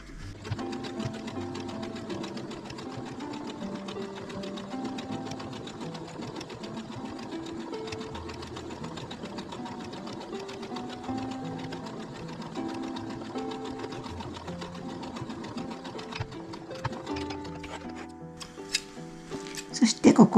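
A sewing machine stitches a curved seam 1 cm in on a quilted zipper pouch, running with a steady close mechanical whir throughout before stopping with a few clicks at the end.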